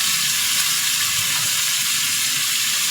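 Okra and potato pieces fry in oil in a pan, giving a steady, close, loud sizzle with a faint stirring texture throughout and no talk.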